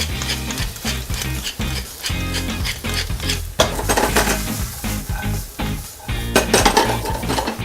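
Onions and mushrooms fry in a pan with salt and pepper, a loud close sizzle broken by repeated scraping and clattering as the pan is kept moving and the vegetables are stirred.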